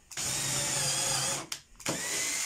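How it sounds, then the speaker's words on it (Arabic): A cordless professional drill whirs steadily as it bores a hole, a loud close motor whine that stops briefly, gives a short burst, then runs again. "نحط المثقب لهنا ونثقب على روحي ثقب"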